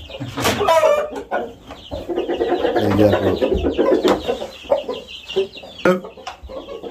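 Roosters of a prized fighting breed cluck and squawk repeatedly at close range, with someone talking briefly among the bird calls.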